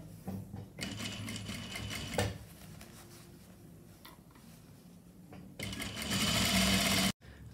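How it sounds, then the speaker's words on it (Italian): A sewing machine stitches the lining of a coat to its sleeve in quick, close bursts, running in short stretches with brief pauses between them and a final louder, faster run that cuts off abruptly. "Cucire la fodera con la manica a 1 cm sulla parte del capotto, la fodera di sotto."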